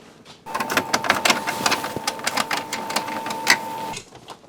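Torx T20 screws being backed out of the dash of a 1990s Ford Bronco, a steady mechanical whirring with a constant tone and rapid ticking for several seconds, close and fairly loud, stopping abruptly.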